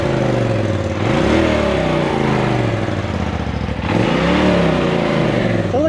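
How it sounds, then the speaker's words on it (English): A Polaris RZR 1000 Turbo side-by-side on its stock exhaust is revved twice, the engine climbing from idle to a loud throaty roar and dropping back between pulls, close by. "Give it a couple revs."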